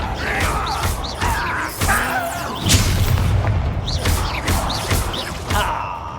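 Bombarda spell explosions in Hogwarts Legacy, the video game, inside a mine: repeated sharp crashing bursts and booms at irregular intervals over a rumbling bed of combat noise, loud and close, with grunts and gasps between blasts.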